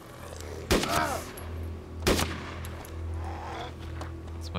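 Two sharp gunshots in the video game DayZ ring out about a second apart over a steady low hum, followed by quieter game effects.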